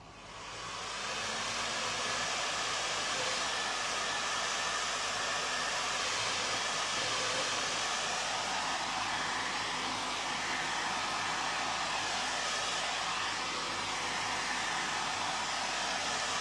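A hair dryer blows steadily and close by over a freshly glazed, shabby chic painted candle holder, a continuous broadband whoosh lasting the whole stretch with no talking.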